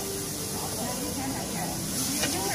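Soybean sprouts with plenty of chili stir-fried over a powerful high flame at an outdoor market stall, a steady loud hissing sizzle and roar with faint clinks mixed in.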